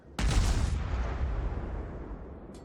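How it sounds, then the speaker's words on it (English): Cruiser Cleveland's forward guns firing in World of Warships, a single sharp booming salvo that rolls into a long low rumble and slowly fades. "so that means I'm just using my front guns right now"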